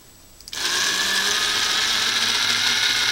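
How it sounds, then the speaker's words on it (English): A Tamiya silver can electric motor with a 20-tooth pinion, fitted in an M05 2CV radio-controlled car, spins up abruptly and whines steadily at close range, a high continuous buzz with no talking. "I was able to fit the motor, which means we can go for a simple little test."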